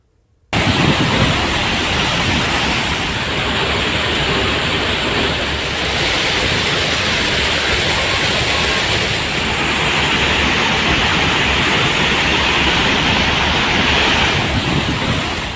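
A flooded waterfall near Mahadev Khoh in Nauhatta, Dehri subdivision, Rohtas, pours as a powerful, continuous roar of rushing water, loud and unbroken throughout and with no voices.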